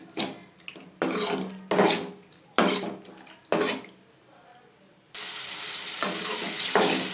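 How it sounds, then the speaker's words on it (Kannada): Liver fries in a pan for a pepper liver fry, giving bursts of sizzle and scraping stirs that start and stop in short rhythmic strokes, then a continuous louder sizzle near the end, with no talking. "ಸೊ ಲಿವರ್ ಆ್ಯಡ್ ಮಾಡಿಕೊಂಡು ಫ್ರೈ ಮಾಡ್ಕೊಳ್ಳಿ"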